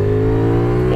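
A CFMOTO 450 SS sport motorcycle accelerates on the road, its engine giving a loud, close, harmonic drone that rises in pitch at the very end of a short burst.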